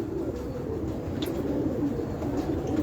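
Steady, low, continuous cooing from pigeons in a loft where Sialkoti birds are kept, with a soft, dense murmur that goes on without a break.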